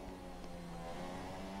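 A Formula 1 race car engine in a video game during a qualifying lap with DRS deployed, a steady loud droning tone held evenly from start to finish without pause.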